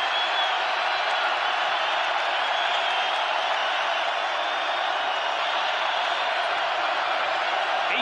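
Basketball arena crowd at a BYU vs Utah college game, a sustained, loud, even roar of cheering voices filling the space throughout.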